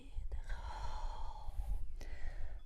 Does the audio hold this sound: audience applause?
no